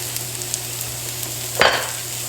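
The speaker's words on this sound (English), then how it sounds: "Now I'm going to add this spring onion" Spring onion goes into Indo-Chinese fried rice already frying in a pan, a low steady sizzle that flares into a brief louder hiss partway through as it is added, close by with no talking.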